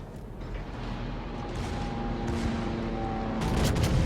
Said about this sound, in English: You can see the spares firing still.